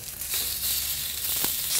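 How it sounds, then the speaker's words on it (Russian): Fat from a thick dry-aged T-bone (Florentine) steak sears in a hot pan, giving a steady close sizzle with faint crackles and pops, no voices. "Я вот слегка начинаю обжаривать с боков для того, чтобы смазать сковороду жиром."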